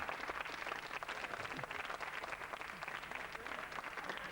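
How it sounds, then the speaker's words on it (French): Studio audience applause for a guest on a French TV quiz show, continuous dense clapping at moderate level with no break. "On applaudit Mathieu, qui est un personnage étonnant."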